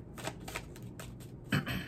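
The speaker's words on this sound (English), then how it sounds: "So now I'm using and shuffling from the Rider-Waite Tarot deck." A Rider-Waite tarot deck shuffled by hand, giving soft, quick riffling and rustling bursts of card noise over a low background hum, with a slightly louder flurry near the end.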